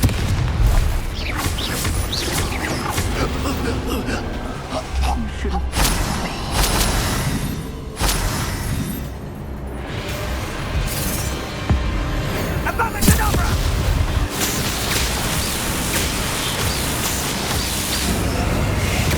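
Confringo fire spell explosions during Hogwarts Legacy combat, repeated booming bursts and crackling blasts layered with battle noise and rumble, loud and dense throughout, with no talk.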